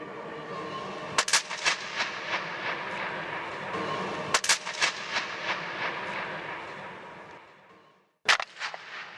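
Paper touched inside the vast Gol Gumbaz dome: three sharp, crackling bursts spaced a few seconds apart, each followed by a long, dense reverberant wash of echoes that fades slowly.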